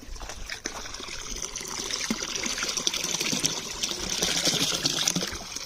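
Water trickles and splashes steadily into a home fish pond as young fish are released, a close, continuous, slightly fluctuating flow with no speech.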